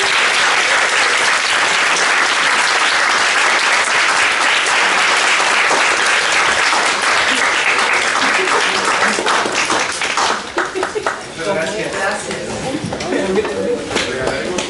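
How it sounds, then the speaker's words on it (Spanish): A conference audience at a talk on contemporary Central American poetry applauds loudly and continuously, the dense clapping thinning in the last few seconds into scattered individual claps. "listo, un aplauso más."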